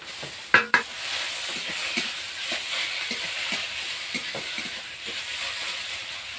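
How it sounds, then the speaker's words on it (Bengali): Fried egg tipped into a pan of mashed snake gourd and spices, giving two sharp knocks up front, then a steady soft sizzle with light stirring scrapes throughout. "এবার ভেজে রাখা ডিমটা দিয়ে দেব।"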